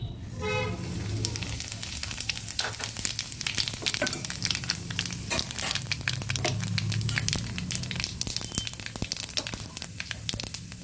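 Whole cumin and black cumin sizzle in hot oil over lowered heat, a close, continuous fizz peppered with sharp crackling pops throughout, with no talking.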